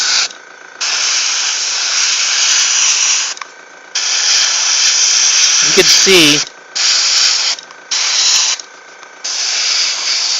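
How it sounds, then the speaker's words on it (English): Spray primer hisses in long bursts of several seconds each, separated by short pauses, as white primer is sprayed onto Batman miniatures; a brief voice cuts in near the middle. "Still getting spots from spraying white."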